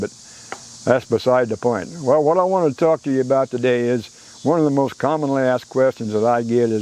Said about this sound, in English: You can hear there's all kind of crickets and tree frogs in the background.